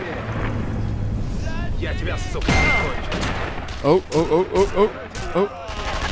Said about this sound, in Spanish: ¡Oh! Hay disparos.